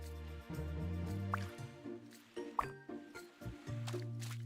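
Splashy, squishy footsteps as a character runs through water in a farming video game, repeated wet slaps over a steady tonal game music background.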